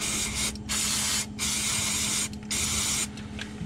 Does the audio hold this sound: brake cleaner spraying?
yes